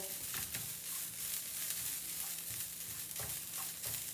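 Masala for chicken curry fries in a pan with a soft steady sizzle, punctuated by quiet intermittent scrapes of stirring, faint and close with no voices.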